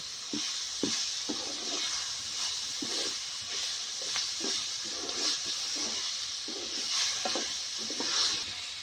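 Soft sizzling of masala with tomatoes and a little water in a pan, with repeated scraping of a spoon stirring at a steady rhythm, close and moderately quiet, no talking.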